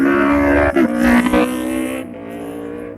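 A motorcycle engine revs loudly and close, rising in a harsh buzzing roar with a brief stutter, then settling to a lower idle-like drone.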